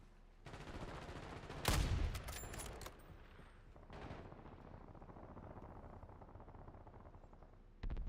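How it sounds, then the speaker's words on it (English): Gunfire and a heavy blast in Call of Duty Blackout, a loud burst early on followed by scattered quieter shots and rumbling battle noise over a fairly low background. "I'm under fire."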